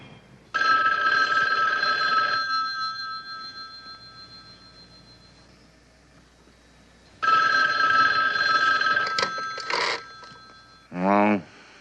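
Telephone bell ringing in two long, loud bursts separated by a pause of quiet, followed by brief clattering as the handset is picked up.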